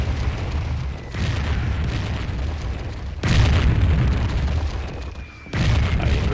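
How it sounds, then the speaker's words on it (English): Bombshell explosions from the Warhammer 40k: Fire Warrior video game come as three loud, booming blasts spaced a couple of seconds apart, each with a sharp onset and a rumbling tail, with no talking. "I'm getting real tired of getting hit by these darn"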